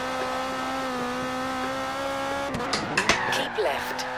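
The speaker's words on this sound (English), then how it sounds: "That was an amazing drift, guys." A car drifts in the Forza Horizon 3 racing game played with a steering wheel. A steady engine drone gives way to a burst of tire squeal and skidding screeches near the end, with a voice talking faintly underneath.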